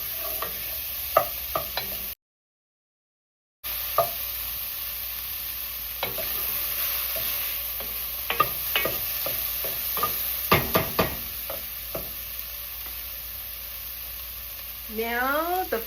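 Garlic cloves fry in a pan for stew, a steady sizzle broken by repeated sharp scrapes and taps of a utensil stirring against the pan, with one brief gap of silence.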